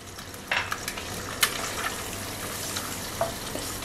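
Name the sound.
egg being scrambled and stirred in a frying pan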